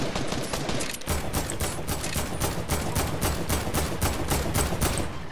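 Rapid automatic gunfire rattles without pause in an Arena shooter video game, loud and dense, with a short break near the start before the shots resume in a steady stream.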